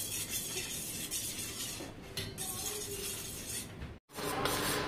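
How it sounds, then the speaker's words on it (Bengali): A spoon stirs homemade Cerelac baby food with water in a pot, giving a steady scraping and clinking over several seconds, broken by a brief silence before the stirring resumes. "এটা পানি দিয়ে একটু চামচ দিয়ে নেড়ে দিচ্ছি"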